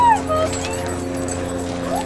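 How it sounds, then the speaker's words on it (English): A puppy whimpers with a high yelp near the start inside a home, then quieter whines and yips recur under a steady background hum while people talk nearby. "Hi, puppy."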